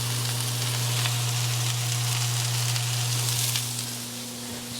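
A lean steak sizzles on a flat griddle, a steady close hiss and crackle over a constant low hum, easing slightly in the final second.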